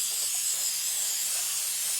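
A continuous aerosol spray hisses steadily at close range, then cuts off abruptly at the end.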